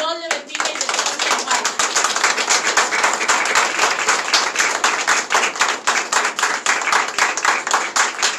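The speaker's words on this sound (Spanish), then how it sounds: "Pido pues un fuerte aplauso para Miguel" An audience at a memorial tribute breaks into strong applause, many hands clapping quickly and densely, with individual claps standing out in a close, lively burst that carries on throughout.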